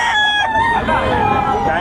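A gamecock at a poultry market crows loudly and close by in one long drawn-out call, with faint crowd murmur beneath it.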